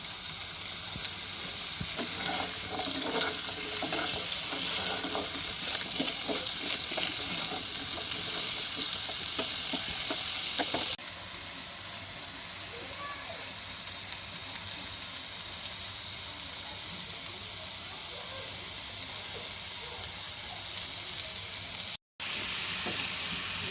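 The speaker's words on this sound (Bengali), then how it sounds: "আলুটি ভেজে নিই।" Potatoes frying in a little oil in a frying pan, a steady loud sizzle and hiss with faint stirring scrapes, continuous with a slight drop partway and a brief cutout near the end.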